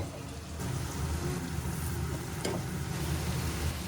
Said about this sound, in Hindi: ये बन रही है आलू की सब्जी, जिसके लिए मसाला भुना जा रहा है।